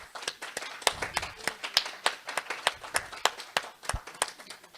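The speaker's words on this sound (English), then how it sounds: "How about another round of applause for Teresa?" Sparse, scattered hand claps from a small audience at a gathering, individual sharp claps in an uneven rhythm, fairly faint and without talk.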